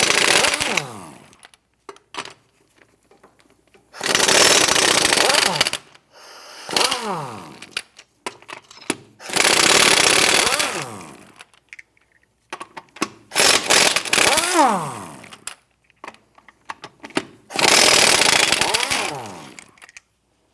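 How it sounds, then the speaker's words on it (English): An impact gun with a 21mm socket zips off lug nuts on a 2008-2013 Nissan Rogue, loud rattling bursts of a few seconds each, five in a row separated by quiet pauses and small clinks. "Using a 21mm socket, let's go ahead, loosen and remove these lug nuts"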